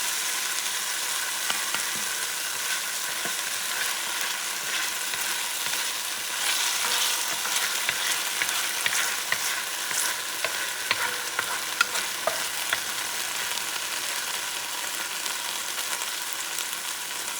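Steady crackling sizzle of sofrito frying in a hot pan, with occasional stirring scrapes and clicks, close and continuous throughout.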